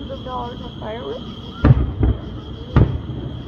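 A few booming fireworks bursts at a Christmas in July display at Wyco Lake, two close together then another a second later, heard over distant crowd noise and a faint voice.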